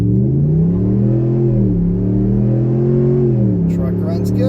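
Ram 1500 pickup truck accelerating at wide open throttle on a dusty road near bridge construction, with a loud, steady engine drone whose pitch rises and shifts through gear changes, heard from inside the cab.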